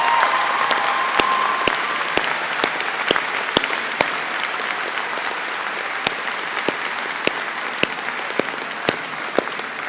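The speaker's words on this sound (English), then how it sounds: "I think Abigail and Beatrice deserve a much bigger round of applause than that" Graduation ceremony audience applause at Birmingham City University, sustained dense clapping from a large hall with sharper individual claps standing out, steady and loud throughout.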